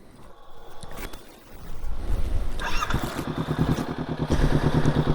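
A Honda CBR500R fitted with a Leovince GP Corsa Evo exhaust starts up and settles into a steady, near, pulsing idle, with low mechanical rumble and some clatter before it.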